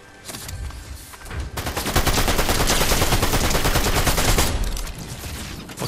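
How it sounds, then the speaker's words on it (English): Rapid automatic gunfire in a video game shootout, opening with a few shots, then swelling into a loud, dense sustained burst of overlapping shots for several seconds before easing off, no talking. "Shooting behind us."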